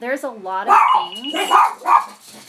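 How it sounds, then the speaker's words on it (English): A dog barks several times close by, the sharp bursts cutting in and out beneath a woman's ongoing speech. "That's my dog. He's barking."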